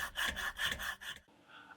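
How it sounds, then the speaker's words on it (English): Copper pipe is sanded by hand with 150 grit sandpaper, heard as close, quick rasping strokes in a steady back-and-forth rhythm, about six strokes before stopping abruptly. "Use 150 grit or higher sandpaper to smooth out the copper."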